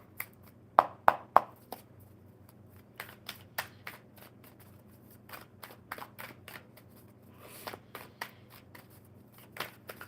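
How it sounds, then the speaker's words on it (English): Tarot cards being shuffled by hand: a quick burst of crisp, close clicks, then scattered quieter slaps and snaps of cards over several seconds in a quiet room. "One more good shuffle, and we'll see what the cards say."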